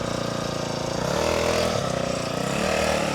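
Small single-cylinder engine of an FRP MB40 minibike running steadily close by, its buzzy drone rising slightly in pitch as the throttle opens, with no gaps.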